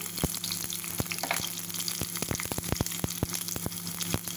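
Onion frying in desi ghee for dal tadka, a continuous close sizzle with sharp crackling pops scattered throughout at steady loudness, no talking.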